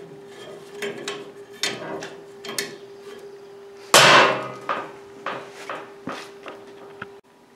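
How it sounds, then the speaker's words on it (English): An air hammer knocks rototiller tines forward on a Frazer rototiller being taken apart, giving a string of sharp metallic raps and clanks at uneven intervals with one loud, ringing hit midway, no speech. "And you'll air hammer it forward."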